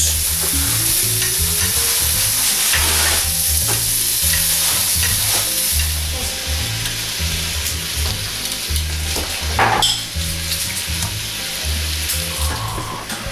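Beef chunks for Julia Child's beef bourguignon sizzle steadily in a pan, a loud continuous fry with stirring scrapes and a sharper clatter near the middle, no talking.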